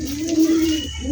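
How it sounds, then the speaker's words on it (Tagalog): A pigeon coos close by, a low steady throaty tone held for about a second, then starting again. "Yung mga babaeng kalapati."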